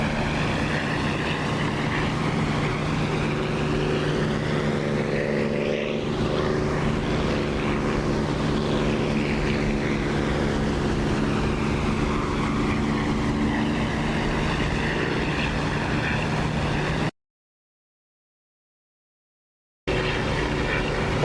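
A simulated aircraft engine drones steadily in flight in the DCS combat simulator, a loud, close hum with a faint rising and falling sweep, cutting out abruptly to silence near the end before resuming.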